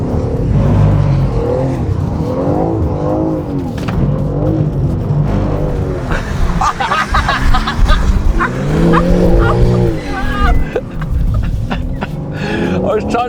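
A BMW M3 driven hard and sliding through downhill corners, engine revving and rising and falling loudly throughout with possible tyre squeal, close and continuous, with voices talking over it.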